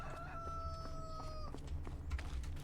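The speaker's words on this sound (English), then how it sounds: "I heard the dang roosters are crowing" In a farming video game at sunrise, a rooster crows loudly, a long rising call, over a low steady rumble, with faint clucks afterward.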